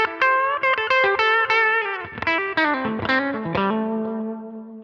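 Electric guitar through the LA Studio Comp compressor on a Line 6 Helix, playing a heavily effected phrase with distortion, chorus and reverb, sustained notes ringing out and slowly decaying at the end, moderately loud with no talking.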